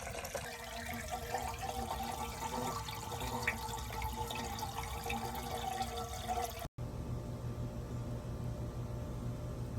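Water running and splashing steadily into a pool pump's strainer basket while it is primed during a DIY pump replacement, close and continuous, then cutting off abruptly into a quieter low hum.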